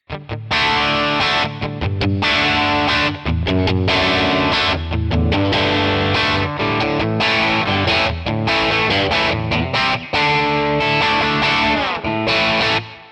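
Electric guitar played through a Two Rock traditional clean tone model on Tonex, a continuous dense stream of chords and notes at steady, full loudness throughout with no speech.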